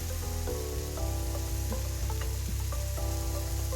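Shrimp fried rice cooking in a frying pan as rice is added, a steady close sizzle with stirring and scraping, soft clinks and knocks of a utensil against the pan throughout.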